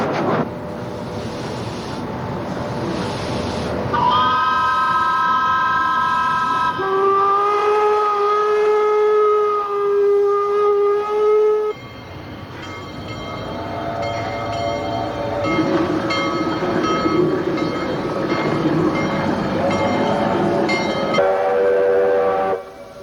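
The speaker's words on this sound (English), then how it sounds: "the week of Steam Expo brought a whole collection of steam trains together" Layered steam whistles from a gathering of vintage steam trains at Expo '86 blow long sustained tones over the rumble of the trains, chords shifting as different whistles sound one after another.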